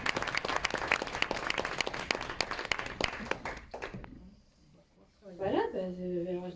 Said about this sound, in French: Voilà, on peut applaudir.